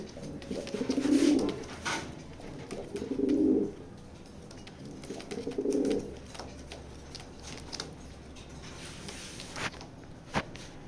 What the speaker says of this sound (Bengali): দুইটা ইয়াং কবুতর আপনারা কবুতরটা দিয়ে আশা করি ভালো ডিম বাচ্চা করাতে পারবেন